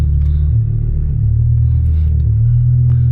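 Heard from inside a car, the engine gives a loud, steady low rumble with a slight swell in revs, continuous and close, with no one talking.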